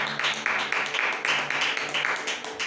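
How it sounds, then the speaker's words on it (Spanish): Scattered clapping from a church congregation during a Spanish-language sermon, moderately loud with irregular bursts of hands over a faint sustained tone. "Denle un aplauso al Señor."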